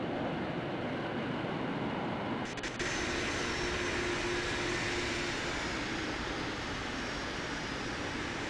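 Boeing 747-400F cargo jet roaring steadily through its takeoff run at Los Angeles International, a broad, constant engine rumble with a sharp rise in intensity partway through, no voices.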